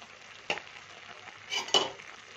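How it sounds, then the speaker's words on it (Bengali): Mixed vegetables with half-cooked dal sizzle softly in a pan as a spoon stirs them, scraping a few times against the metal, close and fairly quiet with no talking. "বন্ধুরা এবার ভালো করে নাড়ব"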